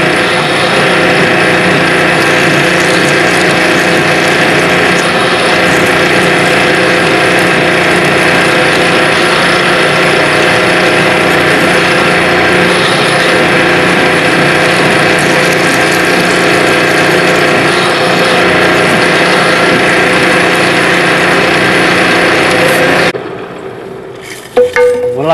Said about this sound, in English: As exciting as drilling a hole in steel can get.